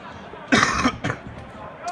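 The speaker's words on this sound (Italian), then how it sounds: "noi ci scusiamo per il colpo di tosse" A single loud harsh cough bursts out near the microphone during live football commentary of a Parma versus Tuttocuoio match, followed by a smaller throat-clearing cough.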